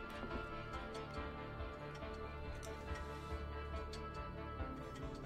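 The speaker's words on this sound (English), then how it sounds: "Oh, we can hear the clock ticking away." A clock in the Police Helicopter Simulator PC game ticks faintly and steadily in a quiet room, each tick clear and regular over a low background hum, with no talking.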